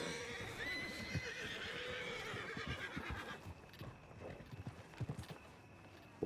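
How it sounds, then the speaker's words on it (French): A horse pulling a carriage clip-clops in a steady hoof rhythm, with a whinny early on, faint and fairly distant. "Non, c'est la calèche."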